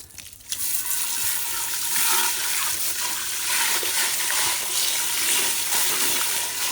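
Dishes being rinsed and scrubbed in plain cold water without soap, a steady close splashing and sloshing that runs continuously for several seconds with no talking.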